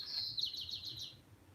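A timer alarm mimicking a bird gives a bright, rapid chirping trill, fairly steady and moderately loud over faint background hum, with no talking.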